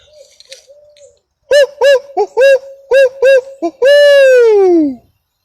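An owl hoots clearly and close by in a rapid series of short calls, then ends on one long descending call, after some faint talking at the start.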